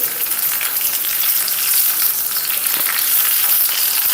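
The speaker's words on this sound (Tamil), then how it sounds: "ஸோ வெண்டைக்காய் வந்து வசக்கிறோம்" Okra (ladies' finger) sautés in a pan with a loud, dense, continuous sizzle and crackle throughout, close up and free of talk.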